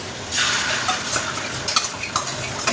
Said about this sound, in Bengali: এই যে ডিম ভেজে দিচ্ছি।